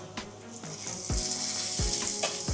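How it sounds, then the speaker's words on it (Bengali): Dried chillies and nigella seeds tempering in hot oil for a Bengali potato, bori and fenugreek greens dish: a steady close sizzle with crackling pops and a few low clunks of a utensil against the pan. "এবার একটু শুকনো লঙ্কা আর কালো জিরা ফোড়ন দিয়ে দিচ্ছি।"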